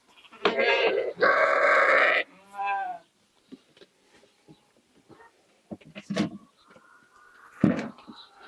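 Lambs bleat loudly up close, several wavering cries in quick succession, followed by scattered rustling and clicks and another short bleat later.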